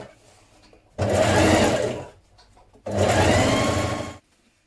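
A sewing machine stitches a 7mm seam with wrong sides of fabric facing, running in two loud, steady bursts of about a second each with a short quiet pause between them.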